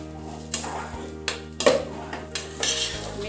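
Rice and sugar being stirred in a pot for white pulao, a spoon scraping and knocking against the metal in uneven strokes, close, with a faint sizzle underneath.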